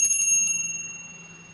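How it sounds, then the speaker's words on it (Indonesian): A single bell rings out, its bright metallic tone sustaining and slowly fading over about a second and a half, with no voices. "Ditandai lonceng berbunyi."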